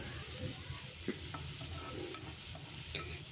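Tomatoes frying in a pan over a medium-to-low gas flame for a chicken liver fry, giving a soft continuous sizzle with light stirring scrapes, fairly quiet and without talk.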